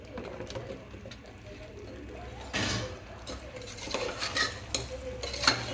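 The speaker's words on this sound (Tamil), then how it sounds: "இப்படி இது மாதிரி கிண்டி வச்சுக்கலாம்" A spoon stirs chopped mushrooms through Chettinad biryani masala in a pan, giving soft, close scraping and clinking strokes with a few louder knocks, over low background hum, with no voices.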